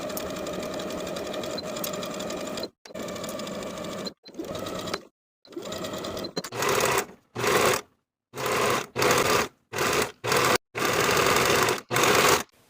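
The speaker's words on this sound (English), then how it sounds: "I'm ready to sew it in place with a 3/8 inch seam allowance from center front to center front" A sewing machine runs in short bursts of rapid stitching, separated by brief pauses, as it sews a ruffle onto a wrap skirt with a 3/8 inch seam allowance, near and steady with no voices.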